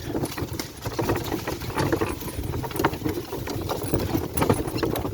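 Heavy draught horses pull through a muddy rural track, their hooves thudding and squelching in a steady, irregular walking rhythm close by, mixed with a continuous low rumble.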